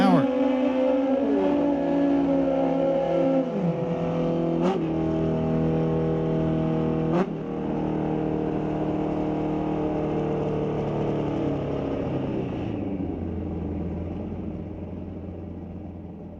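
Drag race cars at Mission Raceway accelerate down the quarter mile, with loud engines climbing through gear changes in rising, stepped pitches, then a long sustained roar that slowly fades as they pull away into the distance.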